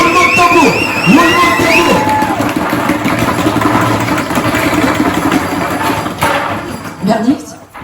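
A crowd at a live stage event growls and rolls their voices together to imitate a drum roll, a dense rumbling texture lasting several seconds between bursts of a host talking loudly.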